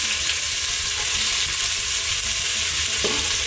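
Chopped white onions fry in hot olive oil, a dense, even sizzle filling the whole stretch, close and loud with no talking.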